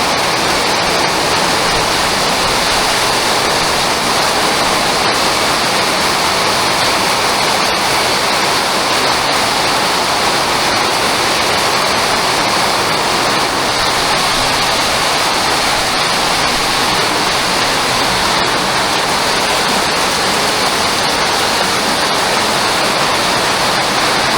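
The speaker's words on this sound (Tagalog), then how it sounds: "Malakas na ulan ngayon." Heavy rain pours on a house under construction with flashing, a dense, loud, unbroken hiss of falling water that holds steady throughout with no talk.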